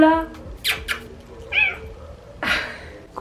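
A house cat meows close by in several short, insistent calls spaced across a few seconds, with a person speaking softly in between.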